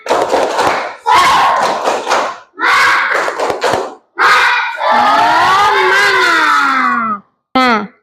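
Schoolchildren in a classroom doing an energetic clapping chant together, loud shouted rhythmic phrases and claps in several bursts, ending with a long drawn-out cry and a short final shout.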